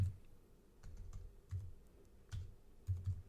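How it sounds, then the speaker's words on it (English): Soft, sparse keystrokes tap on a computer keyboard during an Arch Linux install, arriving in small irregular clusters in a quiet room. "So I'm going to type in here Pulse"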